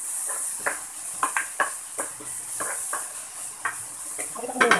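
Chopped sayote goes into a pan and gets stirred, with scattered utensil scrapes and clinks over a soft background hiss, moderately near.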